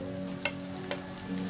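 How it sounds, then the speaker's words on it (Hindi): Chopped onions frying in a pan for a fish curry as tomatoes go in: a steady, even sizzle with a couple of soft stirring taps and no talking. "अब इसके अंदर हम ये टमाटर डाल देंगे,"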